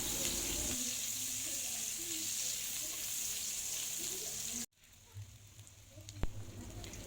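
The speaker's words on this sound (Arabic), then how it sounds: "حط البصل كده بقى ونقلبه" Onion being sautéed and stirred in a pan for a stuffed-vegetable dish, a loud steady sizzle with occasional stirring scrapes that cuts off abruptly, followed by a quieter, faint background with a single clack.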